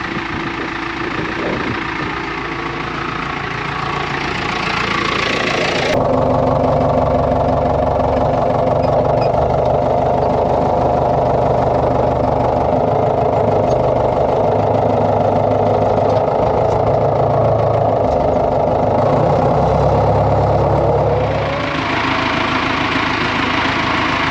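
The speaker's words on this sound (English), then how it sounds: "it's forklift time" A forklift engine idles close by, a continuous low rumble with a faint knocking texture, starting and stopping within the recording.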